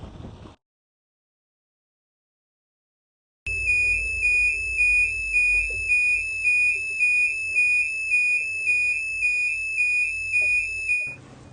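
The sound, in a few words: gas alarm sounding in a boat's saloon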